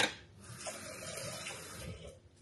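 A small amount of water pours into a cooking pan, a short splashing gush that settles into a gentle trickle and fizz.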